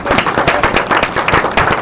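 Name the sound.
audience applause for panelist Tim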